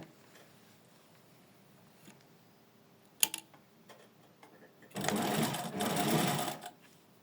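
Sewing machine stitching along elastic 2 mm from the edge, starting after a few quiet clicks and a sharp tap, then a loud, close whirring run of about two seconds with a brief dip midway.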